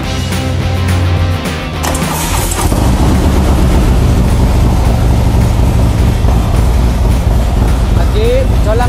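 A Harley-Davidson motorcycle with a Stage 2 reflash starts up after a couple of seconds, then runs on at a steady, loud, close idle, with some talking in the background.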